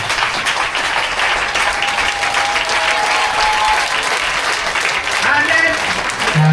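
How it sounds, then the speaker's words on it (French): A church congregation standing to applaud and acclaim God at a miraculous healing gathering in Bouaké, dense, loud, steady clapping throughout with crowd voices mixed in. "La maman demande qu'on se tienne debout pour acclamer pour Dieu."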